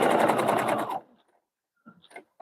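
A sewing machine stitching a quilt runs in a fast, loud, steady burst for about a second, then stops, leaving brief soft clicks and handling noises.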